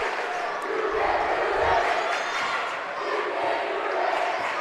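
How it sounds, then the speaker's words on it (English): Student sections on both sides of a high school basketball gym, Scott Skyhawks against Logan Wildcats, cheer and shout loudly, a thick sustained crowd roar that swells slightly in the middle. "Great crowds on both sides here tonight, as you can hear right here on Video Productions."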